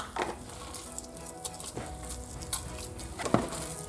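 Chopped onion sizzling and frying in a pan for pav bhaji, a steady low crackle with scattered stirring clicks and a few louder scraping spatters, close and alone without talk.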